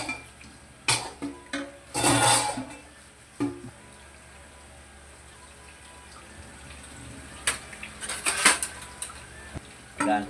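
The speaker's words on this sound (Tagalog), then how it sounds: "Guys, hugas muna tayo ng ating mga kinalatan ba." Used dishes, pans and cutlery being washed at a sink while paksiw cooks nearby, with sharp clinks and clatters in bursts, running water between, and quieter stretches in the middle.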